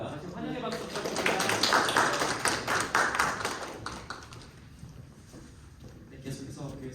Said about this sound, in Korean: 다시 환영의 박수 부탁드립니다.